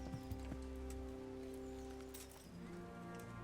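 Horse hooves clopping as Pebbles is ridden in Kingdom Come Deliverance, a few soft thuds near the start over a steady low ambient hum and rustle.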